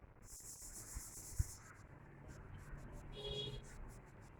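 Writing is rubbed off a board during a physics lecture on capacitors. Soft scrubbing strokes come close together, with one sharp knock partway through.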